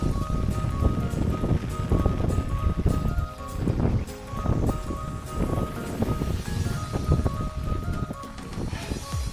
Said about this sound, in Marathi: खूप वारा सुटला आहे.